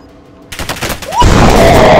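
CX9 submachine gun fired in the Warzone video game, a sudden loud burst that swells into sustained rapid fire, dense and close, filling the second half.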